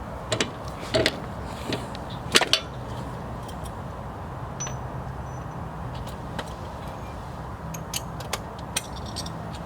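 A rear shock is worked free from a Nissan 370Z Nismo coilover setup, giving sharp metallic clinks and clanks of tools and parts scattered over a low background rumble, close by and without speech.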